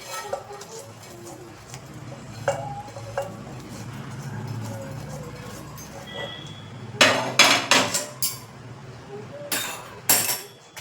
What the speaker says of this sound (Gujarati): તેને પણ આપણે એકદમ અધકચરું પીસી લેશું